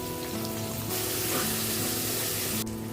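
Onion and whole spices sizzle loudly in hot oil for shrimp rice, a dense, steady frying hiss that swells partway through and then eases back.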